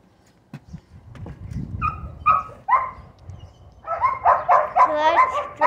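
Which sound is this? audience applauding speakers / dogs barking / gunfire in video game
dogs barking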